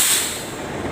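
A short sharp hiss of air escaping as a car's brakes are bled at the right-hand wheel, loud and close, fading quickly.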